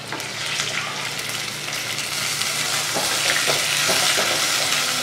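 Tamarind water goes into sautéed garlic for poondu kulambu, raising a loud, dense sizzle and hiss with a few sharper crackles. It sounds close and continuous, with no talking.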